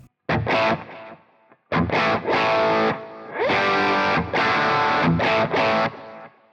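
An electric guitar played through a TONEX delay set to 400 milliseconds rings out in loud distorted phrases, each burst trailing repeats across a short pause and gaps between strums.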